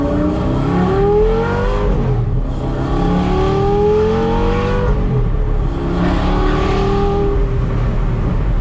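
A V10 sports car engine revs hard again and again, pitch climbing in repeated sweeps between gear changes, loud and close with a throaty roar.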